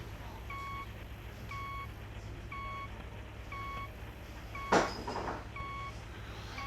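A tractor reversing in the Farm Expert 2016 video game, sounding a steady series of evenly spaced electronic reverse beeps over a low engine drone, with one sharp clunk partway through.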